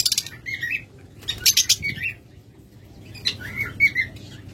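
Caged pet birds, lovebirds, cockatiels and budgerigars, give close, bright chirps and squawks in quick bursts, with brief wing flutters and short pauses between calls.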